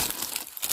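A crumpled, badly creased plastic pouch is moved about by hand, giving a brief close crinkling and rustling that rises again at the end.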